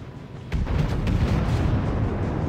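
A battleship's main guns fire a salvo in the naval video game World of Warships, a South Carolina battleship at the Solomon Islands, starting as a sudden heavy boom and rolling into a long, loud low rumble that fills the rest.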